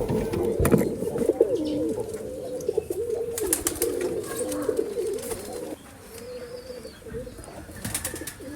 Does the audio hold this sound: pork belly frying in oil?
no